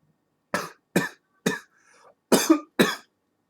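Harsh, close coughing from a person sipping a whiskey ginger cocktail: five sharp coughs spaced about half a second apart with a short rough pause, no speech.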